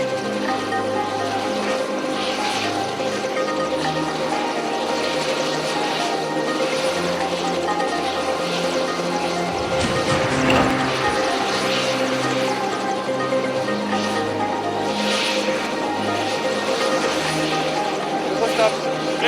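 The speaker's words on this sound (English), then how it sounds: "Choppers like the Cheetah and the Mi-17 serve as air buses on this roadless ice track" Military helicopters such as the Cheetah and Mi-17 flying over the Siachen glacier, a steady continuous rotor and engine drone throughout, with speech over it.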